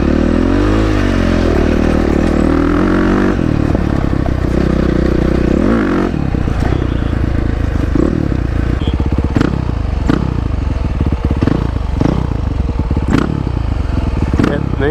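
A loud Beta 500 RS dirt bike engine with an FMF PowerCore 4 exhaust idles and revs nearby, then settles into a rough, pulsing exhaust rhythm with rattling clatter.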